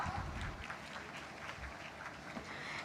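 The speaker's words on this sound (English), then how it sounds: "A round of applause for our esteemed panelists and our guests." Audience applause fills the hall at an international conference on world religions, a steady, dense wash of clapping that runs the whole stretch at moderate loudness.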